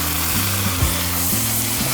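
Seasoned meat for Cajun rice and gravy sizzles loudly in a hot pot, a dense continuous crackle with a few soft stirring knocks, close and steady with no talking.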